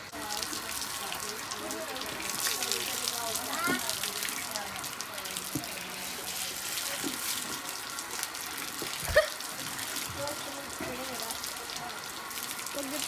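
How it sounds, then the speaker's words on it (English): Hose water sprays steadily over a horse being rinsed, a continuous soft splashing hiss that runs the whole time, with a single brief thump partway through. "So now we're going to rinse off Joe Bob."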